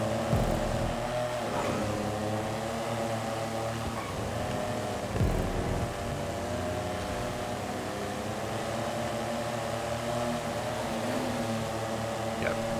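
Several car engines in a GTA racing game drone together at a steady, even pitch, loud and sustained with slight wavering throughout and no talk.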